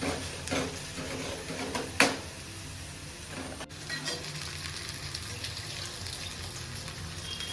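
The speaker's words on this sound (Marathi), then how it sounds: "कांदा कापलाय आणि तो आता परतवून घेतो" Chopped onion sautéing in a pan for a home-cooked Maharashtrian dish, a steady soft sizzle and hiss with a few clinks of stirring, one sharper clatter early on, and no talking.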